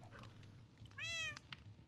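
A Minecraft cat gives a single clear meow, close and fairly loud, its harmonic tone rising then falling over a quiet game background with faint low hum.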